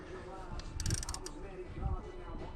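Quiet ratchet clicks in short bursts while a spark plug is tightened a quarter turn, with faint background hum.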